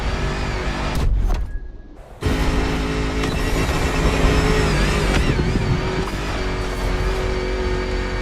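Land Rover Defender with a 400-horsepower engine driving in The Crew Motorfest, a steady loud engine drone with a brief dip around a second in, then resuming continuously with changing pitch.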